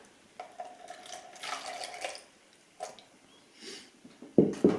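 Water poured out, about 50 milliliters, to feed a sourdough starter, heard as faint, intermittent trickles and drips that end in a brief louder splash.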